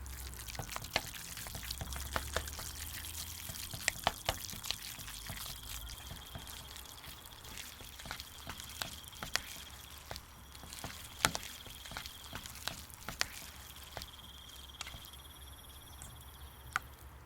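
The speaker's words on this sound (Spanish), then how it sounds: "Añadimos un poco del agua aromática y vamos mezclando hasta que el relleno absorba todo el líquido" Aromatic water trickles into wonton filling as it is mixed, a steady soft patter and splash with scattered wet clicks and squelches, close and continuous without any voices.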